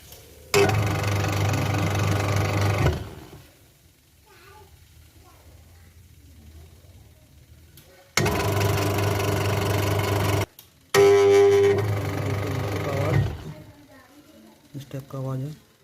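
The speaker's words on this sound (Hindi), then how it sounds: "मोटर से आवाज़ आ रहा है।" An Onida washing machine's motor runs but fails to lift the load, making a steady mid-pitched hum in several loud bursts of a few seconds each, separated by quieter pauses where someone speaks.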